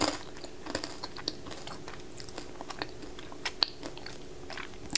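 Crispy store-bought fried onions being bitten and chewed up close, a run of small sharp crunches at an irregular rhythm, quiet and alone.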